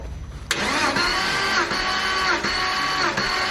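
A Porsche Boxster 986 engine cranks steadily on the starter during a compression test on cylinder 3, a loud, continuous whirring drone with faint rhythmic pulses, starting abruptly and holding for several seconds, no voices.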